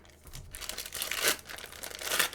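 AliExpress parcel packaging torn and crinkled open by hand, a close series of rustling, crackling plastic tears coming in uneven bursts.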